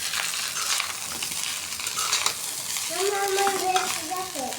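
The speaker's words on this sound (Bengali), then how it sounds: "এখন ভালোভাবে ভাজতে নেব।" Rice fries in a hot pan with a continuous hiss and crackle while a spoon stirs it, and a brief voice cuts in faintly toward the end.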